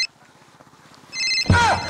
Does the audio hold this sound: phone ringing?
yes